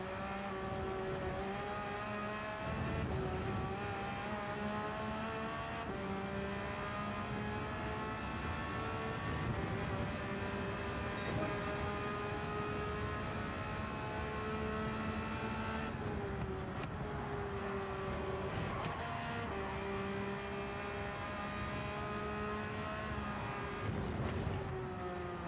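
Porsche race car engine in Gran Turismo 7, revving steadily with shifting pitch and gear changes, loud and continuous throughout with no talk.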